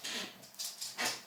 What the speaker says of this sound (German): ihr hört es mit Sicherheit, das ist mein Hund